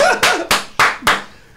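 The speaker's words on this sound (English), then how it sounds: "Clapping." Four sharp, evenly spaced claps ring out loud and close in a talk-show studio, each with a short ringing decay, and a laugh comes through at the start.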